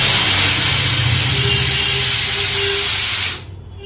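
Pabda fish fry in hot oil in a kadai, giving a loud, steady, hissing sizzle that stops abruptly just before the end.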